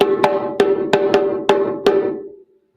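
Drum pattern for the cuckoo call played in a rhythm circle, six sharp resonant hits in an uneven pattern over about two seconds, ringing briefly after the last stroke, close and with no voices.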